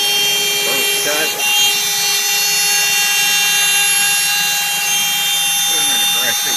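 A CNC router with a 1/4 inch end mill on an aggressive pass cutting a push stick or clamp jig, giving a loud, steady high-pitched whine with constant tones throughout and a faint voice in the background.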